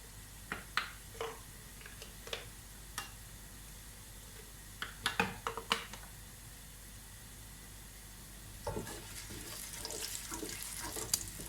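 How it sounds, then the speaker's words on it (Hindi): Onions cook for pulao in a pan with a soft, low sizzle, joined by scattered clicks and scrapes of stirring and a louder, rougher stretch of frying near the end. "प्याज को बहुत ज़्यादा डार्क नहीं कर रही हूँ क्योंकि ये पुलाव है"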